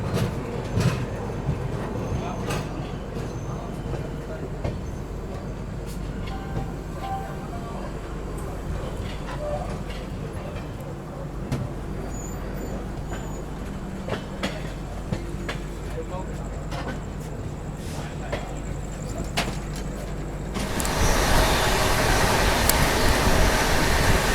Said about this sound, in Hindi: चलिए निकल चुकी अपनी ट्रेन जो है सोलापुर से